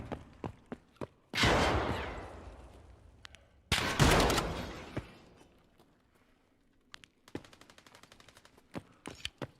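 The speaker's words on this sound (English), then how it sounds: "those suppressed shots are probably like 200 meters away or like 150 meters away" Suppressed gunfire echoes through an Escape from Tarkov raid: two long, loud rushing bursts, then scattered sharp cracks and clicks at irregular intervals, some faint and distant.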